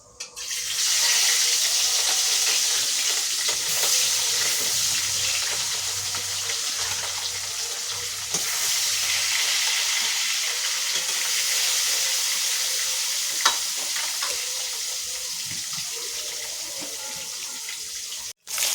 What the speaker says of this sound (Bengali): এবার কিন্তু আমি মাছগুলো ভেজে নিচ্ছি।